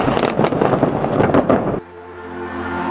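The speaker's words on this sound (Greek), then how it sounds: "Με πυροτεχνήματα υποδέχτηκε και η Θεσσαλονίκη τη νέα χρονιά το 2023." New Year 2023 fireworks launched from a barge over the sea at Thessaloniki give dense, loud crackling and popping for nearly two seconds, then cut to a steady lower hum.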